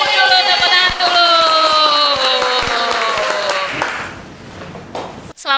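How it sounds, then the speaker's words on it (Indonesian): Applause greeting a guest, the head of the Kudus regional election commission, on an Indonesian podcast: continuous clapping mixed under a loud musical jingle, fading out near the end before a short burst of sound. "Kita sambut dulu, tepuk tangan dulu."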